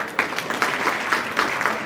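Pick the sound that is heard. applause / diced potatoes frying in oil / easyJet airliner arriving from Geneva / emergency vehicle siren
applause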